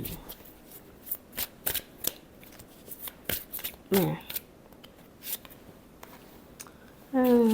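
Tarot cards being shuffled, a series of sharp riffling bursts and soft slaps in an irregular rhythm, close by, with a brief voiced sound partway through and another at the end.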